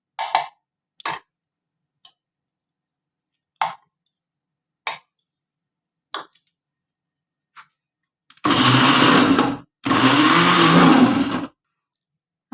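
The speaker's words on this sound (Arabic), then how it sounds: "هنفرم التتبيلة بتاعتنا بقى" An electric blender runs in two loud bursts, mincing a chicken marinade of lemon, vinegar, oil, sugar and salt, after a series of short sparse clicks and knocks in an otherwise quiet kitchen.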